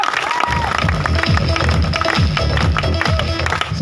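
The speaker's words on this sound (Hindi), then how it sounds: "उनके सम्मान में जोरदार ताली चाहूँगा" Loud, dense clapping and cheering from an audience at a career opportunity program speech event, sustained throughout with a busy crowd roar under it.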